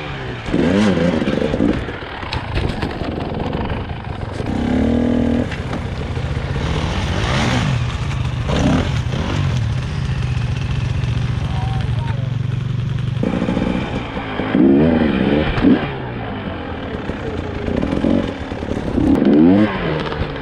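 An enduro motorcycle at an enduro park revs hard and in bursts to climb over logs, the engine loud and close and rising and falling across the stretch, with clattering and a bit of talk mixed in.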